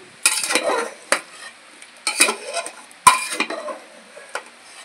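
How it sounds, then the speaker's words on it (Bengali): A spoon stirs shahi garam masala into a curry in a pan, a handful of separate scraping, clinking strokes with quiet gaps between them, close to the listener. "এর মধ্যে একটু শাহি গরম মশলা দিয়ে দেবো, খেতে আরো সুন্দর লাগবে। একটু নেড়ে দেবো।"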